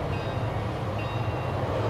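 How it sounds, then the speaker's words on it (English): Train rolling past in the StarCraft 2 co-op mission, a steady low rumble and rattle of rail cars at constant loudness with no voices. "My reports indicate a second train is coming."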